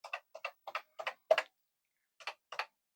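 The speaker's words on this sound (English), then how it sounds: "That's the sound of a pet, a Commodore pet." Typing on a Commodore PET-style keyboard fitted to an early Vic-20, with crisp mechanical key clicks in uneven bursts and a short pause before the typing resumes, close and clear.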